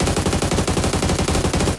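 Rapid automatic gunfire in the mobile battle-royale game Peacekeeper Elite, a dense, loud stream of shots with steady rhythm that cuts off at the end.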